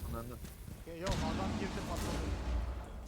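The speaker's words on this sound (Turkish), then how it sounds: "Kim patlattı o volkanı?" A Volcan shield blows up in Rainbow Six Siege, a sudden heavy blast followed by a rumbling, crackling tail, with players talking over the start.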